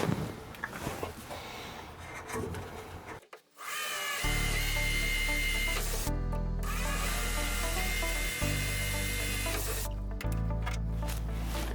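A power tool drives rivets while a hinge is mounted for a camper bed, whirring loudly and steadily in long runs broken by short pauses, close by with clattering handling before it starts.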